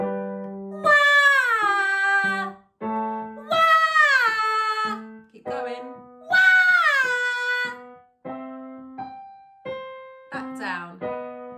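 A singer imitates a crying baby or a cat with loud, repeated wailing cries without vibrato. The cries fall in pitch and come in strong bursts with brief gaps between them.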